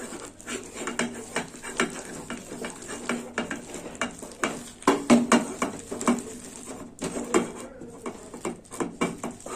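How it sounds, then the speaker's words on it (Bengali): Cooked lentils (dal) whisked in a pot, a close, quick rhythmic patter of strokes and light metallic knocks repeating steadily for several seconds. "এবার ডালটা আমি একটু ফেটিয়ে নেব সব কিছু মিশিয়ে এইভাবে ফেটিয়ে নেব"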